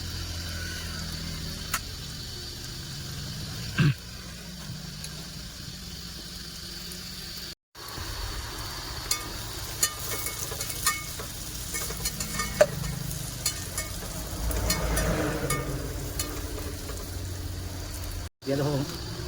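Onions fry in a pan with a steady low sizzle and occasional stirring scrapes and clinks, close by, with a voice speaking now and then.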